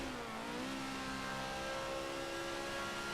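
A Polaris Razor off-road vehicle engine in the Forza racing game drones steadily and close, a whiny, buzzy note climbing slightly as the revs rise and then holding level for the whole stretch.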